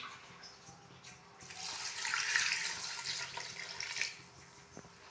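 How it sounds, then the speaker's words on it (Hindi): Water poured into a cooking pot holding beef for a turnip and meat curry, a steady splashing pour that swells for a few seconds and then tapers off, close and fairly quiet. "इसमें अब हम पानी ऐड कर देंगे।"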